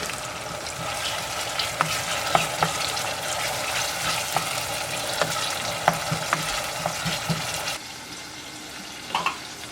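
Tomato slices dropped into a hot frying pan for a spicy Ghanaian dish set off a steady close sizzle, with scattered sharp crackles and spatters; the sizzle fades lower near the end.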